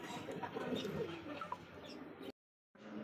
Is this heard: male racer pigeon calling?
yes